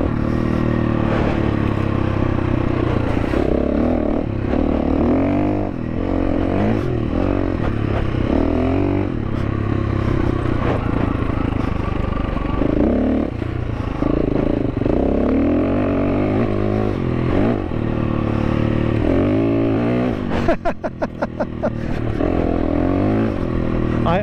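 A 2022 KTM 350 EXC-F dual sport motorcycle being ridden, its engine droning steadily and close for the whole stretch, with shifts in pitch as it works, and a brief clattering burst near the end.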